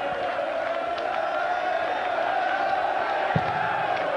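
Steady crowd noise and cheering from a packed darts audience ahead of a 2006 World Championship first-round match between Anderson and Robson, a continuous roar with a few whoops rising out of it.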